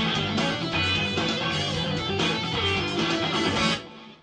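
Full-band backing accompaniment, a dense rock mix with drums and bass, playing loud and steady before fading out in the last half second; no voices.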